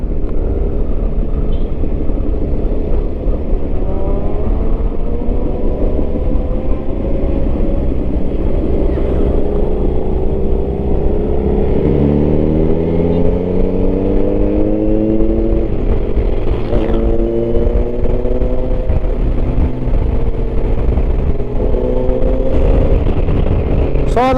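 A big bike motorcycle rides along a lakeshore road in Balete, Batangas, its engine droning loud and close with rising and falling pitch as it shifts and accelerates, wind rushing over the mic.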